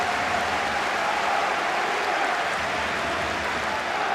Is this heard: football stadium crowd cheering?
yes